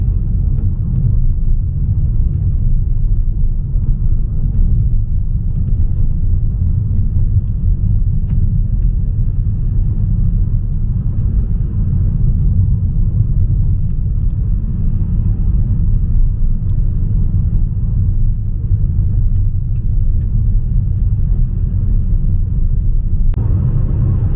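Steady, loud road rumble from inside a car cruising along a UK motorway on a cold winter day, a continuous low engine and tyre drone with no breaks or voices for the whole stretch.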